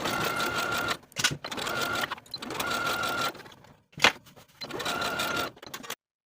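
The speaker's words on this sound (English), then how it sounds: "Then we can sew both sides of that back skirt in place with a 5/8 inch seam allowance" A sewing machine stitches the back panels of a peplum skirt with a 5/8 inch seam allowance, running in three steady bursts separated by short pauses and small handling noises, close and fairly loud.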